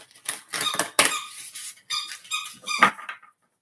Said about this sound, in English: I'm sure you can hear Court in the background squeaking away